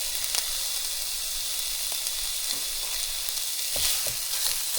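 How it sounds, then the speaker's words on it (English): Onions fry over medium heat in a pan, giving a steady close sizzle and hiss with occasional faint scrapes of stirring. "for the next step we're going to cook up some onions. And add those here. And I'm still doing all this over medium heat."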